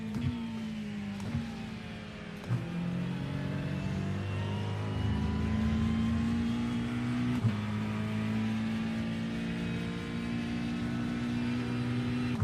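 Racing car engines in the iRacing sim at an IMSA Road America event drone steadily and loudly for the whole stretch, with layered engine tones shifting as revs rise and fall, occasional gear-change dips, and no talk.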